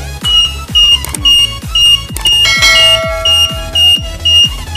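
A Wi-Fi remote motorcycle alarm sounds loudly and repeatedly after being armed and triggered by vibration, cycling through pulsing electronic tones with a steady rhythmic beat and a high beeping chirp, with no talking.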